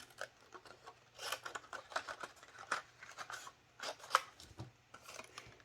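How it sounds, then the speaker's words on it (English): Scissors snip through paper while a holiday candy box with a gift card pocket is being made, a quiet, irregular run of short crisp cuts and rustles close by, with no talking. "I'm going to go ahead and cut this down now."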